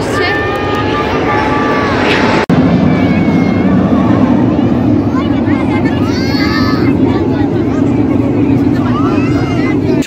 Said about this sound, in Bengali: রঙের বিমান আসছে